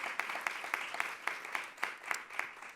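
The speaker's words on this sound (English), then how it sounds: "give yourselves a round of applause for coming" An audience gives a brief, steady round of applause at a health care event, with many hands clapping in a dense, even patter at moderate distance.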